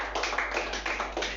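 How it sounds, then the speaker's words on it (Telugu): A congregation claps hands together during a Telugu church sermon led by a pastor, a quick run of sharp, evenly spaced claps filling the hall with no talking over it. "గట్టిగా చప్పట్లు కొట్టి దేవుని నామమున మహిమపడదాం."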